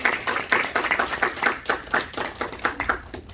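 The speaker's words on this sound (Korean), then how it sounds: "다시 한번 큰 박수 보내주십시오" An audience at a church gathering claps steadily in a rhythmic round of applause. The clapping is moderately close and continues without talk.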